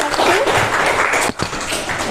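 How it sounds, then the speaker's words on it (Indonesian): A classroom of students bursts into a short, loud round of hand clapping that dips briefly and then carries on. "Tepuk tangan."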